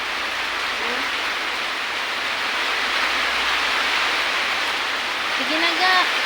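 Heavy rain pours down in a dense, constant hiss that fills the whole stretch evenly, with faint voice-like chirps near the end.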